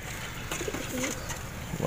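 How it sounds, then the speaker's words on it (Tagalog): Racing pigeons coo softly in a loft, a low murmuring call rising briefly near the middle and again at the end, close by over a steady background hum with no talking. "Mga ibon."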